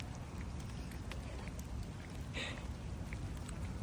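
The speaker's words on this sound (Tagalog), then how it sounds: "Yes, walking in the rain." Rain falling during a walk outdoors in Taiwan, a soft, steady hiss of drops with occasional brief splashes, fairly faint and continuous throughout.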